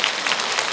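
A brief burst of audience applause at a Korean Catholic priest's lecture: dense, even clapping from many hands that fills the whole moment at steady loudness, with no speech.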